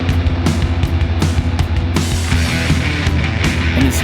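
A full metal track plays loud and dense, with thick, crunchy distorted layers over pounding low end and sharp drum hits in a chaotic, driving rhythm.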